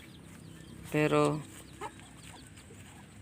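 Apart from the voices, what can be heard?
chickens clucking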